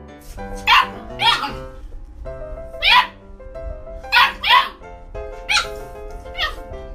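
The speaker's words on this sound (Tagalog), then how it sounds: "Ganito naman mag-usap ng pasigaw ang mga aso." Several dogs bark in loud, sharp bursts, about eight barks spread unevenly over several seconds, with a steady musical background underneath.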